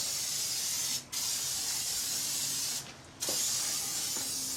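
Spray coating being applied to the edges of a boat seat during a rebuild, steady close hissing bursts with two short pauses between passes, no voices.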